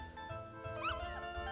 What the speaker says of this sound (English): just killing all these puppies